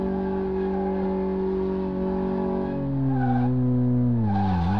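Tires skidding and squealing through a small drift test in Car Mechanic Simulator 2018, a steady sustained screech with engine tone that bends in pitch near the end as the car slides, loud and alone without talk.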